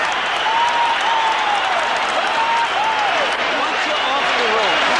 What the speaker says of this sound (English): The end of round 7, the crowd on its feet.